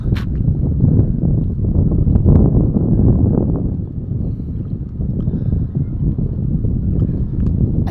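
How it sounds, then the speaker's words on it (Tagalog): Strong wind buffets the microphone steadily over open sea near an island in bad, rainy weather, a loud continuous low roar with gusty surges throughout and no voices. "malakas yung hangin"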